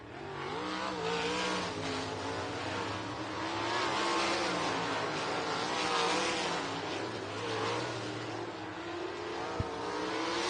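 Race cars at Southern Raceway in Milton, Florida rev their engines in a continuous loud, droning roar with wavering pitch that swells and eases over several seconds, with no voices.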